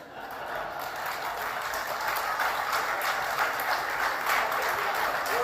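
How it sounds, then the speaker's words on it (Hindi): A hall audience at an award ceremony breaks into steady, dense applause, many hands clapping together at a constant loud level from start to finish. "पूरे हॉल तालियां बजने लगी"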